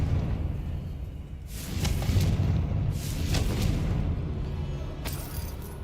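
Fiery blast spell from Hogwarts Legacy, heard as a couple of broadband bursts around two and three seconds followed by another near the end, each a rushing boom over a low rumbling bed, with no voices.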